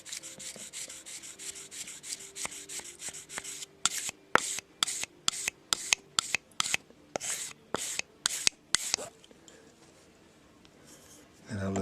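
A knife blade is drawn across a sharpener in a quick series of about a dozen crisp, rhythmic scraping strokes, preceded by softer rubbing and followed by quiet; close and fairly faint.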